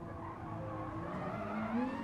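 Nissan GT-R race car in Gran Turismo Sport braking into a turn, steady engine drone with tire noise and a rising whine, continuous and fairly loud.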